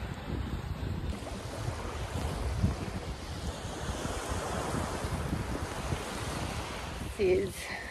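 Surf washes onto a Mexican beach with a steady broadband roar of waves, heavily blown by wind buffeting the microphone, and a brief louder rustle near the end.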